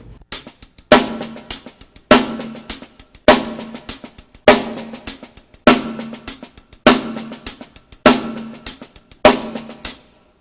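Fast snare strokes play a sixteenth-note paradiddle continuously, with a louder accented hit landing regularly on each quarter-note beat, played close and alone.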